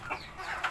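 Native chickens kept on a home balcony give a couple of faint, quick clucks in a brief moment.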